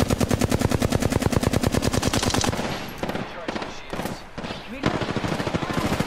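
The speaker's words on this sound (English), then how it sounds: "The enemies are shooting at me." Rapid automatic gunfire from enemies in the video game Apex Legends, loud and close, with dense bursts of shots that break off partway, resume as scattered single cracks, then return to steady firing.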